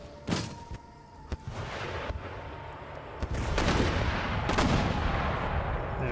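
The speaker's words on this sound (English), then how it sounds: "And my artillery focus on their mortars." Artillery in the battle game Empire: Total War fires in repeated booming volleys, sharp cannon blasts and crackling gunfire layered over a dense rumbling battle din, loud and continuous.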